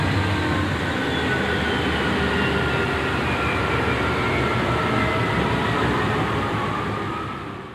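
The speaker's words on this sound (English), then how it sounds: "he caught this pair of Dash 8s leading train Q690" A pair of Dash 8 diesel locomotives leads coal train Q690 past, a continuous heavy rumble and rolling clatter of freight cars that holds steady and loud, then eases off toward the end, with no voices.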